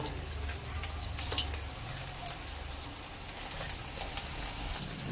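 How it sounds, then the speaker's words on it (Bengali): Radish pieces frying in a pan give a steady, dense sizzle that holds at an even loudness throughout, with faint crackles scattered over the hiss. "এবার মূলাগুলো উল্টিয়ে ভালো করে ভেজে নেব"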